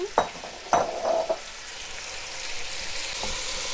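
Ground turkey fries in a pan with a soft steady sizzle, punctuated near the start by a few sharp clinks of a utensil against the pan.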